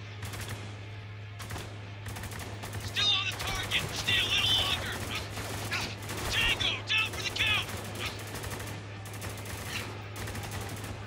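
Heavy gunfire in the war shooter Spec Ops The Line, with dense bursts of automatic fire and sharp metallic clatter over a steady low hum, swelling loudest in two clusters mid-clip while a voice talks intermittently.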